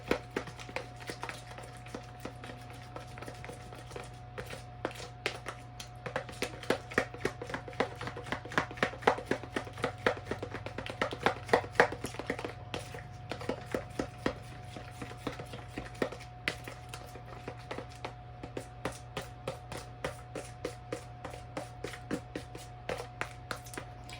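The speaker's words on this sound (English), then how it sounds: "So you want to mix this until the butter and sugar is all incorporated." Butter and sugar are mixed in a bowl for a chocolate cupcake batter. Steady, rapid clicking taps repeat for about twenty-four seconds over a constant low hum, with no talking.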